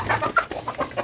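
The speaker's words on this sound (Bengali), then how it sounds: "এখানে দিকে হচ্ছে আমার হাঁস মুরগি।" Village hens and ducks kept at home cluck in short, uneven bursts close by, several quick calls in a row with no talking.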